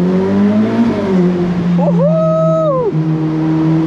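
A Ferrari engine in race mode drones loudly up close, then rises into a sharp rev that climbs, holds briefly and drops back to a steady hum.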